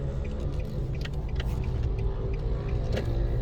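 A car drives along a busy road in Molynes Gardens, Kingston, Jamaica, giving a steady low engine rumble from inside the cabin with light intermittent ticking over it and no talking.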